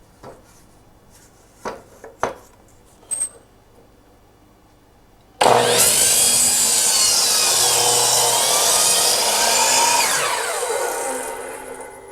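A handsaw cuts wood framing pieces for a camper interior build: a few sharp knocks come first, then about seven seconds of loud, steady, continuous sawing close by that fades slightly at the end.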